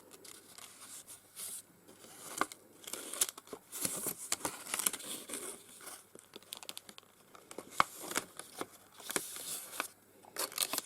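Paper petals are folded and creased by hand at close range, with soft irregular crinkling and rustling in short bursts against a quiet background.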